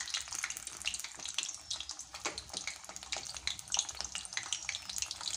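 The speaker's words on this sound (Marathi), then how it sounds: "आता आपण पुरणाच्या करंज्या छान तळून घेऊया." Puran karanji fry in oil over a medium flame with a steady, crackling sizzle of fine bubbling pops that stays constant and fairly soft throughout, with no voices.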